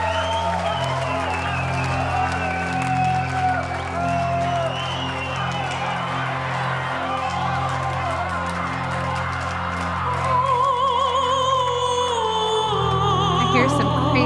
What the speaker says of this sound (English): I hear some crazy screams from the crowd